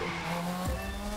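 A car drifting in The Crew 2, loud continuous tire squeal over a droning engine, with a brief lower swoop as the slide shifts, close and sustained.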